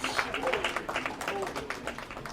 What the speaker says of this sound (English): give yourselves a round of applause for being a continually excellent audience